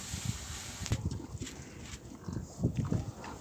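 Pigs on a farm, low grunts and snuffles in short bursts, heard at a moderate distance with cold wind or rustling behind them.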